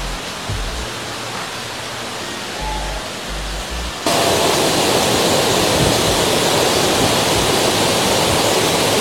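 Katika waterfall in Araku Valley: after a few seconds of quieter surroundings with low thumps, the close, loud, steady roar of falling water takes over and fills the rest of the clip.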